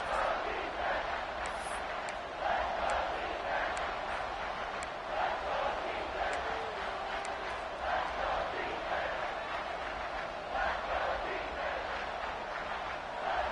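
A home football stadium crowd roars steadily after a big third-down play, a dense continuous wash of cheering with a commentator talking over it.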